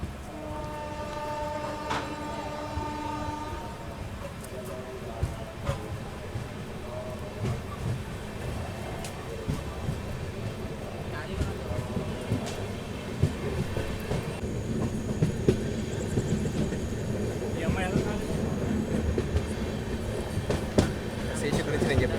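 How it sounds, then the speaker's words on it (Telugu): The Machilipatnam–Bidar SF Express rolls along with a steady, close rumble and rattling wagons. A horn sounds early on, and the rhythmic clatter continues throughout. "సో మనమైతే ట్రైన్ ఎక్కేద్దాము."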